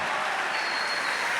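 Audience applause at a talk, a brief dense wash of clapping that stays even and fairly loud for a moment.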